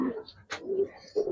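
Giribaz pigeons cooing nearby, several soft low coos with a short rustle or flutter between them, fairly quiet and close.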